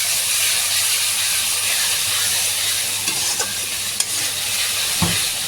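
Ginger garlic paste and a little onion fry in a pan with a loud, steady hiss and sizzle, heard up close, with a few sharp stirring clicks near the end and no voices.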